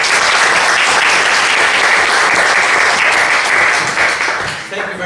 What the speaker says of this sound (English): it's always nice to start off the talk with a round of applause